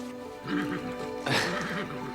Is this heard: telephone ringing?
no